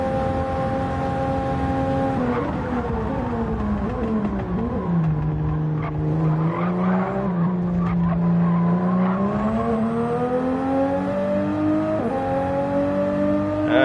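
A screaming six-cylinder race car engine in a Gran Turismo Gr.4 racing game wails loud and close, pitch sliding down and climbing again through gear changes, with tire squeal mixed in.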